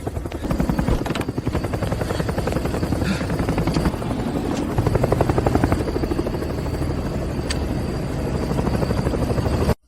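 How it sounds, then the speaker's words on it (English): A helicopter's rotor chops loudly and continuously, a close, steady pulsing beat with a buzzing engine underneath, lasting the whole stretch before cutting off abruptly. "Have the helicopter land on the rooftop."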